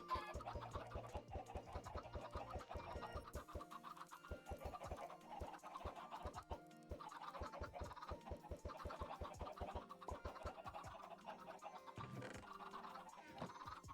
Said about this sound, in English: if I can get more chickens in here, I don't mind.